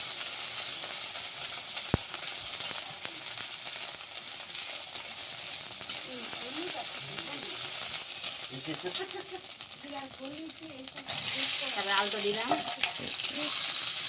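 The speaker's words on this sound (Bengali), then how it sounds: "প্রথমে গরম তেলে দিয়ে দিলাম। আদাটা ভালো হয়ে করে ভাজে নিতে হবে।" Ginger paste with cumin and coriander pastes fries in hot oil, a steady crackling sizzle running throughout with scattered stirring scrapes that grow louder and busier toward the end; faint speech sits underneath.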